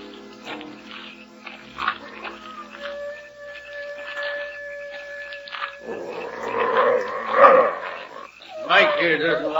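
A dog on a trail in a stormy western setting barks and whines, then draws out a couple of rising howls, fairly close, with someone talking in between.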